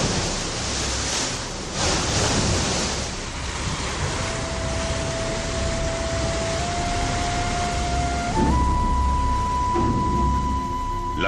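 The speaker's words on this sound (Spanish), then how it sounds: "el Océano Pacífico sacude las costas del archipiélago de las Islas Galápagos" Pacific Ocean waves break on the Galápagos coast in a broad, steady roar of surf with swelling washes, distant and continuous, joined later by faint sustained tones.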